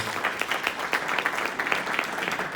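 A church congregation claps together in dense, continuous applause, many hands at once forming a steady rattling wash, moderately loud and without speech on top.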